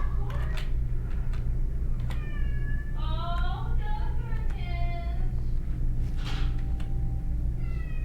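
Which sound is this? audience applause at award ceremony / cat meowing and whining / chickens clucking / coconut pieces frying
cat meowing and whining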